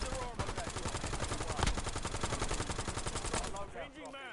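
Rapid, continuous automatic gunfire from Call of Duty on Rebirth Island, loud and dense with overlapping bursts, then easing off near the end.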